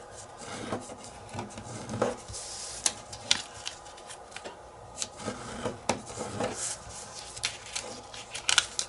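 Origami paper gets creased as its four corners are folded to the center for a lotus flower, giving soft irregular crinkles and sharp crisp snaps close by, with no talking.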